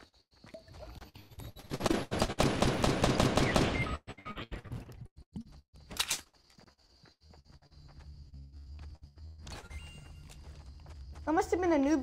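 Gunfire from a gun in a video game, a long rapid burst of automatic shots followed by a few scattered single shots and quieter game sounds.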